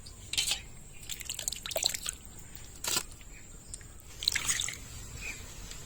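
Fish are rinsed with water in a village kitchen, giving a few close, quiet bursts of splashing and dripping separated by short pauses.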